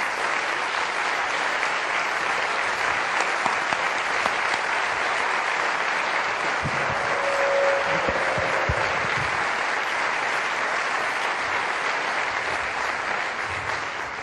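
Sustained audience applause fills a conference hall after a talk at an iNight photography event, steady and full throughout with a brief tone and a few thumps midway, no speech over it.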